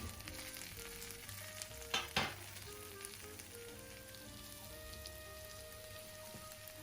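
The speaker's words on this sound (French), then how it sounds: "Quand c'est bien chaud, on y met les champignons." Mushrooms frying in a hot pan of melted butter and olive oil, giving a steady close sizzle and crackle with a couple of louder clatters near the start. Nobody speaks.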